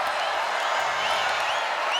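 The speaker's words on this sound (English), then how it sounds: "Houston crowd trying to come to life on 3rd down." A Houston stadium crowd at a college football game cheers and roars on third down, a dense, steady wall of noise filling the whole moment.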